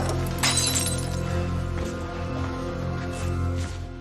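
Glass shattering in a movie scene, a sharp crash early on followed by scattered tinkling fragments over a low steady background hum.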